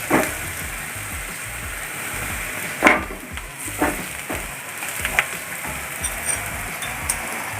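Onions frying in a pan for chicken cutlets give a steady close sizzle, with a few sharp clinks and scrapes of stirring scattered through it.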